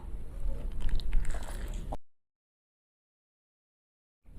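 Someone bites into a crisp Egyptian hawawshi, a baked meat-stuffed bread with pastrami and cheese, producing close crunching and chewing for about two seconds before silence.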